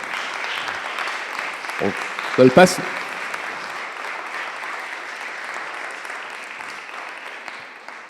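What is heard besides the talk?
audience applause at a ceremony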